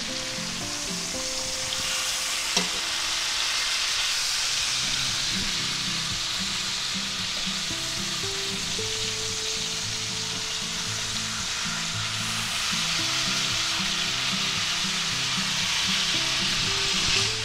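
Chuck roast steaks, dry brined and reverse seared, sizzle loudly in a hot pan after being flipped, a continuous close frying hiss with faint crackle that holds steady the whole time.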